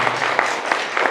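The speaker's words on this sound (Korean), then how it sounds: "박수로 환영해 주시고." A church congregation applauding in welcome during a Sunday service, a brief dense burst of many hands clapping together at moderate distance.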